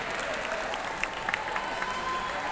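Audience at a book launch on Islam and politics applauding, a dense continuous patter of clapping with a few sharper individual claps standing out, fairly close and sustained for a couple of seconds.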